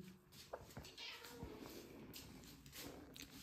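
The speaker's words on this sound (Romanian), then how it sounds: "O pisică care așteaptă să primească și ea niște sandwich cu ton." A cat waiting for a tuna sandwich meows several times close by, with short repeated cries over faint background noise.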